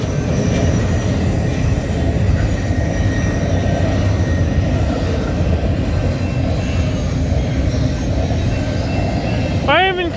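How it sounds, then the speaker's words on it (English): A CN freight train heading from Montreal to Edmonton rumbles past at night, a loud, steady, continuous roar of wheels and cars close by, with a brief squeal near the end. "The train starts off in Montreal, Quebec, and it's heading to Edmonton, Alberta."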